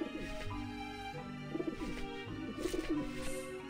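Pigeons coo in Grim Fandango, repeated soft throaty calls over a steady game music background, with a couple of clearer bursts of cooing close together.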